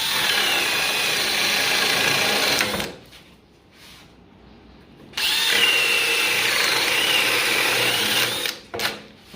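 A power drill fitted with a 7/8 inch paddle bit whines loudly as it bores a hole for 1/2 inch PVC pipe, in two long bursts separated by a short pause.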